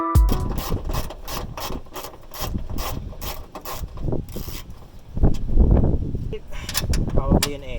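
Ratchet wrench loosening the tail light bolts on a Nissan 370z, giving rapid clicking strokes in bursts close by with some rubbing and clunks between them.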